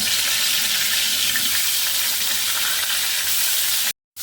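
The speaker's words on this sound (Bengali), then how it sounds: "এই যে মাছগুলো লাল লাল করে ভেজে নিচ্ছি" Steady, loud sizzling of fish heads and tails frying in hot oil in a wok, a continuous hiss that cuts off abruptly near the end.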